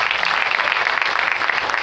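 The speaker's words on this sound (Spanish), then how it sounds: "Denle aplausos al Señor." Congregation clapping together in a parish church during a live worship service: a steady, dense wash of applause from many hands that holds for the whole moment without pause.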